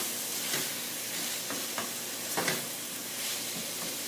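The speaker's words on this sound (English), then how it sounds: "You want it to be sizzling and actually cooking." Lamb sizzles steadily while browning in a hot pan, a constant bright crackle with occasional louder pops and stirring scrapes.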